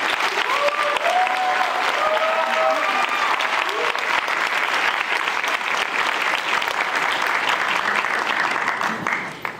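Sustained audience applause in a hall welcoming speaker Teresa Li, steady dense clapping at full volume for nearly ten seconds before tapering off at the end, with faint voices mixed in early on.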